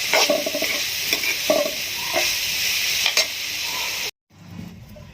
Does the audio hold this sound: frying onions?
yes